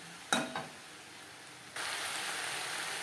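Eggplant pieces and bottle gourd peel frying in a pan over a low-medium flame, a quiet sizzle with a couple of brief knocks early on, then a slightly louder, steady hiss.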